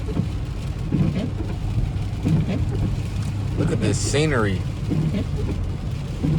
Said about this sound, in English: it's starting to pour down